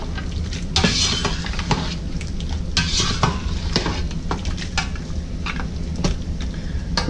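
Pork spareribs in black bean sauce stirred in a pan: a steady sizzle and bubbling with repeated scraping and clinks of a utensil against the metal.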